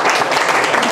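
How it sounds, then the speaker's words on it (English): A room of people at an evening couples class bursts into a short, dense round of applause, close and loud. "So let's clap the hand for mazal."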